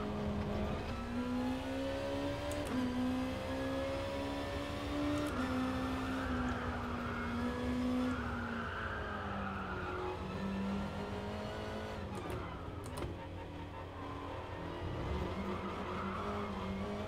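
A racing car in Gran Turismo Sport revs loudly and continuously, its engine pitch climbing through gears and dropping on braking, with faint tire squeal, filling the whole stretch without any talk.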